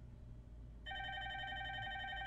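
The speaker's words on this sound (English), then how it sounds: "So let's see what happens when we call Jane from Tarzan's SIP phone." A SIP phone rings with an incoming call, its electronic tone starting abruptly and holding steady, quiet and alone over a low background hum.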